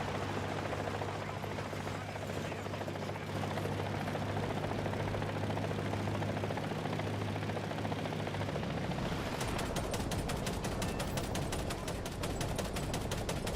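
Helicopter flying nearby in War Thunder, heard from a BMP-3 infantry fighting vehicle, a steady low rotor drone for the first half that cuts away into rapid, rhythmic bursts of gunfire.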